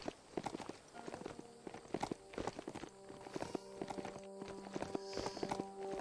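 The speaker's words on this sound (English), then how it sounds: "Where are you, horse? Anyone near me?" Horse hooves in the Biomutant video game clop in a steady, fairly faint walking rhythm that draws nearer over game music and ambience.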